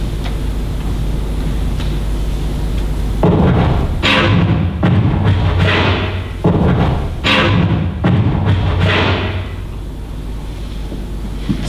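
Kick drum and snare samples are scratched by a DJ, producing a run of choppy, rhythmic thumps and swishing bursts that start after a low rumble and stay loud and close, with no voices.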